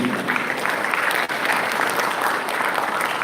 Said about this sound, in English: Applause to Mr. Kawari and the team.